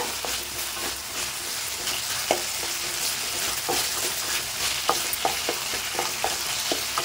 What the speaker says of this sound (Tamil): இந்த தக்காளி எல்லாம் நல்லா குழைவா வதங்கட்டும்